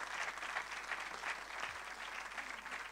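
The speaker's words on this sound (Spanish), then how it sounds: "La despedimos con un aplauso." Faint, steady audience applause at a corporate social responsibility panel event, continuous and fairly distant throughout.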